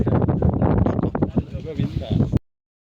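Strong wind buffets the microphone on a hilltop at Raigad fort, a loud continuous low rumble with gusting surges that cuts off abruptly near the end, while voices talk underneath.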